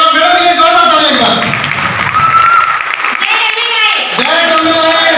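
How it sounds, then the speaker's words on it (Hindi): An audience at a business seminar in Delhi claps loudly and continuously, with a raised voice and tonal music cutting through the dense applause throughout. "एक बार मेरे लिए जोरदार ताली एक बार।"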